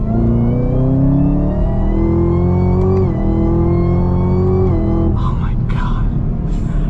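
Supercharged Chevrolet Camaro ZL1 with exhaust open in track mode, revving loud and close in a sustained rising drone that drops away near the end.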